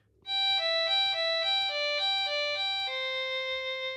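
A Carry-On Digital Wind Instrument 2 Plus jumps abruptly between notes without portamento, a bright synthetic tone repeating a quick rhythmic pattern of clean pitch steps, played alone.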